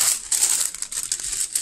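Tissue paper crumpled by hand during a craft session, a short burst of crisp crinkling close up.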